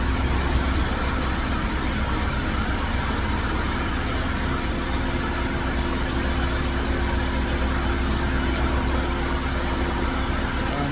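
A 2019 Nissan Altima engine idles steadily with a low, even rumble and faint mechanical vibration throughout, no voices.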